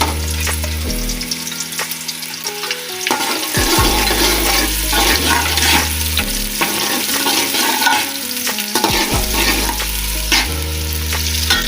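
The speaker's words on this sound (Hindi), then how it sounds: "हमारा ऑयल गर्म हो गया, इसके अंदर मैं ऐड करूँगी जो मैंने प्याज कटिंग करके रखे हुए थे ना, वो ऐड करने लगी हूँ।" Chopped onions hitting hot oil and frying, a loud close crackling sizzle that swells and stays dense throughout, with background music underneath and no talking.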